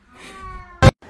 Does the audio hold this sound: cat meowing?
yes